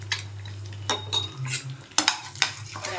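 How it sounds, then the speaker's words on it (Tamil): Eggs being stirred as they fry in a pan, with a low steady sizzle under repeated scraping and clinking of a utensil against the pan, several sharper knocks near the end. "முட்டையை நல்லா வந்து கிண்டி விடுங்க அப்போ தான் வந்து நல்லா எல்லா பக்கமும் வேகும்"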